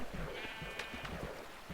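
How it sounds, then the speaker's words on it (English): A baby sheep in the Minecraft video game bleats in a short series of clear wavering calls in a barn setting, fairly close and loud, with no talk over it. "Then the little baby sheep"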